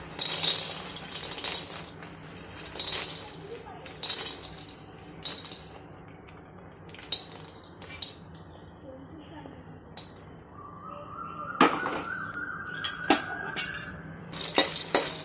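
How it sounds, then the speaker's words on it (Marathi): Fox nuts dry-roasting in a hot kadhai rattle and scrape under a spatula in scattered bursts, heard beneath intermittent talking. "हे पहा, कढई तापलेली आहे आणि याच्यामध्ये आपण मखाने टाकून घेऊयात अगोदर।"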